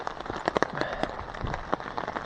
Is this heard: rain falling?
yes